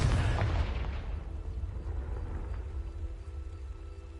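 A fire spell blast in Hogwarts Legacy erupts as a loud, close boom with a heavy low-end burst at the start, then rolls into a long rumbling, crackling decay that stays dense and roaring without fading fully.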